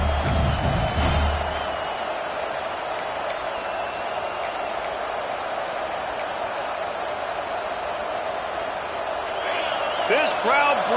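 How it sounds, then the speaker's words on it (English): A large stadium crowd at a football game roars steadily throughout, a dense wash of cheering and noise with a few thumps and shouts on top. "This crowd bringing the energy and noise early"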